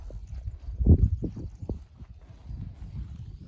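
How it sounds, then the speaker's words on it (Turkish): Dairy cows walking out on a village farm, their hooves thudding and clopping on the ground in a loose cluster of steps, loudest near the start and then softer and scattered. "Evet sağmalar da geliyor."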